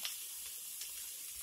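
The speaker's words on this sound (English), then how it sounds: "See, it's all in that sizzle." Steady hissing sizzle of hot oil in a skillet, continuous and fairly quiet, with a couple of brief brighter crackles.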